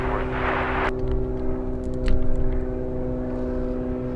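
A Boeing 747 at Anchorage airport, heard as a steady, loud jet engine roar with droning low tones and a rushing burst of broadband noise early on, continuous throughout with no talk.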